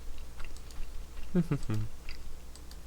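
Someone eating breakfast crunches food, with a few short, close crisp bites clustered mid-clip over a faint, hissy background.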